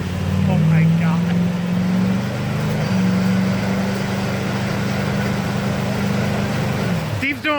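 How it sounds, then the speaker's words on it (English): A truck engine roars in a sustained, loud drone during burnouts, with a brief rise near the end, while voices talk over it. "Steve's doing burnouts now."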